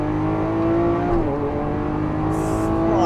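A 740bhp Lamborghini Aventador SV pulls hard in third gear on a track, its engine note loud and close, with steady climbing harmonics under a continuous roar.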